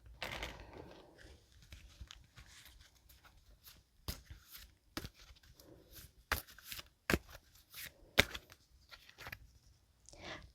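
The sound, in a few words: shuffling and drawing a tarot card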